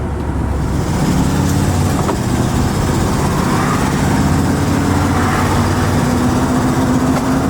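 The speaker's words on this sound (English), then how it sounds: "The truck runs through the gears really nice. It's got nice acceleration." A 1972 Ford F-100 pickup truck engine drones steadily while driving, a continuous low rumble with some road noise and a slight rising pull as it accelerates.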